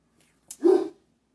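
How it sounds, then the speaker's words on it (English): A single short dog bark, close and fairly loud, preceded by a brief sharp onset, in an otherwise quiet indoor setting. "I'm sorry about my dog."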